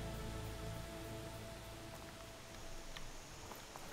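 Steady rain hisses and patters through an outdoor scene in the video game Horizon Forbidden West, a soft, even wash with no voices over it.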